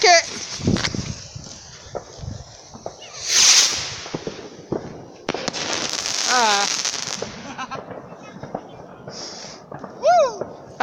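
On bonfire night a firework rocket whooshes up and bursts with sharp cracks, followed by further whistling and crackling pops, with voices of people nearby talking and cheering.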